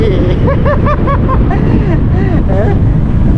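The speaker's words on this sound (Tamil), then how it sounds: "இப்போ காற்று செம்மையாக அடிக்குது" Strong wind gusts roar continuously across the microphone on a coral island, with a steady broadband rush throughout and a voice talking over it.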